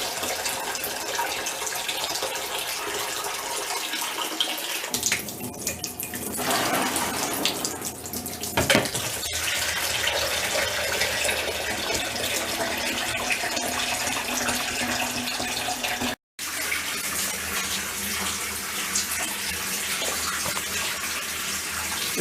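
Water gushes steadily from a tap into a home brew fermenting vessel, a loud continuous rushing and splashing that shifts in tone as the container fills, with a brief cut partway.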